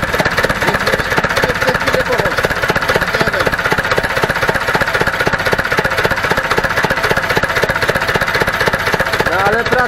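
Ursus C-360 tractor diesel engine running steadily after starting, a loud continuous rhythmic knocking chug at a fast even idle, close to the microphone with no pauses.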